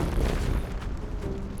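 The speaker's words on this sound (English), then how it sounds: "Another bomb hits the ship." A bomb explodes against a pirate ship in a video game, a dense, sustained low-frequency rumble with a broad roar that holds steady for the whole moment, loud and close, with no voices.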